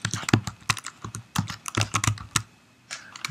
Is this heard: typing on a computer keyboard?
yes